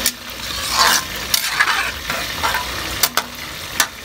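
Food frying in hot oil during Bicol-style cooking of laing and santol, a steady close sizzle with popping spatters and a few sharp clinks of a utensil against the pan.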